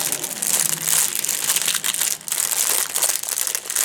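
A double-bagged plastic package is unwrapped close up, with loud, continuous crinkling and crumpling of thin plastic and a brief dip partway through.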